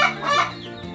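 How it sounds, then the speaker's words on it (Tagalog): Rhode Island Red chickens in a coop cluck and call close by, a quick run of throaty, rising notes at fairly strong volume with no talk over them. "Ito na sila mga ka-chicken. Ating mga Rhode Island Red."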